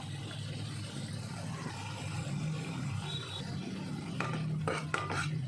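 Mushroom and chickpea masala gravy stirred in a pan for a street-cart style dish, with a steady low background rumble and a few metallic scrapes and taps near the end.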